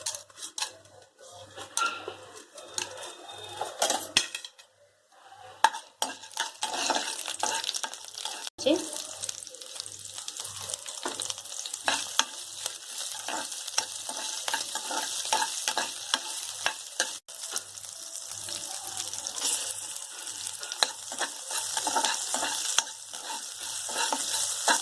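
Urad dal and chana dal fry in hot oil in a pan. A steady sizzle is broken by frequent scraping and clinking stirs of a metal spoon against the pan, at close range.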